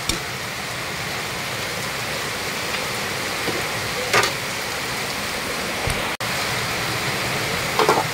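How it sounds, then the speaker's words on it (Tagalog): Heavy rain pounds a leaking kitchen roof in Palawan, a dense steady roar with no breaks, with a few faint knocks and a brief dropout near the end. "Grabe, ang lakas ng ulan sa amin sa Palawan mga kapangit."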